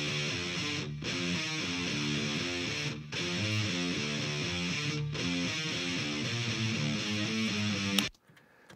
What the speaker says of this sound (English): Now the parallel saturation sounds like this.